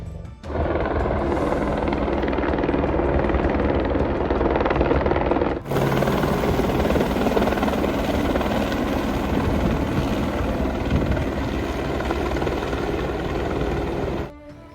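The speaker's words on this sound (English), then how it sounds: "That was a rescue chopper that just landed back there where I took that clip of the lake." A rescue helicopter lands near a lake campsite in the Desolation Wilderness, its rotor thudding loudly and steadily at close range for nearly fifteen seconds, with a brief break near the middle and no talk.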